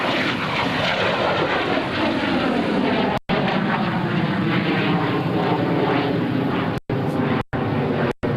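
A loud, continuous aircraft engine roar at a 2002 NAS Oceana airshow fills the clip, steady and close, broken by a few brief cuts.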